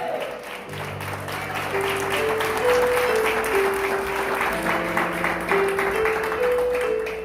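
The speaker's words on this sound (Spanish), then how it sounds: "Un aplauso al Señor esta mañana." A congregation applauding, sustained clapping that builds and holds over sustained organ or keyboard chords.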